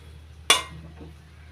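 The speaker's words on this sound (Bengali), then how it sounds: "এবার ঢাকনা তুলে নিচ্ছি" A metal lid comes off a cooking pot of boiled potatoes on a gas stove, one sharp close clink followed by a fading ring, then quiet.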